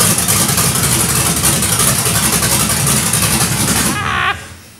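A freshly built Honda K20 engine on its first start runs loud and steady at a rough idle, close to the listener, then cuts off abruptly near the end with a brief whine as it dies away.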